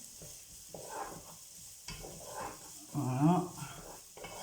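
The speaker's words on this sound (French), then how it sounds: "je fais revenir donc mes oignons" Onions being stirred and gently fried in a pan, a soft sizzle with scraping stirring strokes that swell louder near the end, and a brief spoken word between them.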